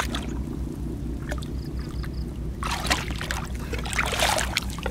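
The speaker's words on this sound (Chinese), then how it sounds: "这个在冒泡" Water bubbles and trickles in mangrove mud while razor clams are dug up on the shore, with soft gurgles early on and then louder wet bursts of bubbling over a steady low rumble.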